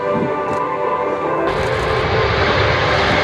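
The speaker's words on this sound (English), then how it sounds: "Watch the reverse thrust, the engine nacelles will move forward." A Canadian Forces C-17 Globemaster III jet roars into reverse thrust during an air show landing demonstration, a loud steady jet whine that surges into a heavier, broader roar halfway through.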